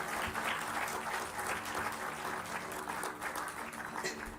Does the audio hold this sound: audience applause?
yes